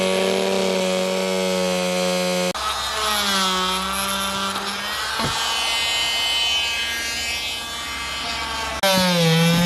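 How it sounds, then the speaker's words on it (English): An oscillating multi-tool cuts old sealant on the roof of a Class A motorhome, making a loud buzzing whine whose pitch shifts as the blade bites and eases over about ten seconds. "But here's the tool you use, multi-tool,"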